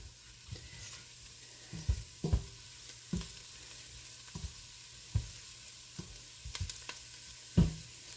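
Soup ingredients sizzle faintly in a pot over an open fire, with a steady low crackle broken by several sharp stirring clanks and thuds spaced a second or two apart.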